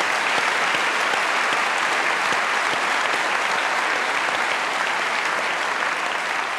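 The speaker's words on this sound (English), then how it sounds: "Give yourselves a round of applause" A large audience at a university Q&A event gives a loud, sustained round of applause, dense and even throughout without pause.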